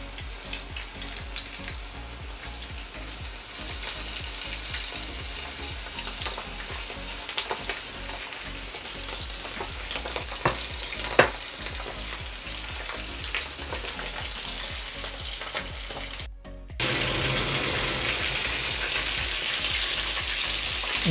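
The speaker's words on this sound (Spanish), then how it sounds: "Con nuestro aceite caliente echamos nuestras piezas de pollo" Chicken pieces fry in hot oil with a dense, continuous crackling sizzle and scattered sharp pops, briefly interrupted before the frying hiss returns even stronger and steadier.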